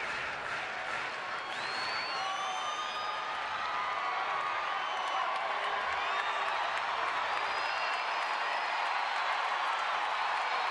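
Crowd at a San Francisco Giants baseball game cheering, a steady dense roar of voices with scattered whoops and whistles, sustained and loud throughout.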